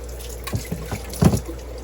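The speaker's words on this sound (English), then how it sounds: "just going to rinse this out" A container being rinsed under running water, with short splashing bursts and a louder slosh near the end, close and fairly quiet, with no talking.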